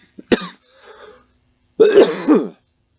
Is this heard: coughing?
yes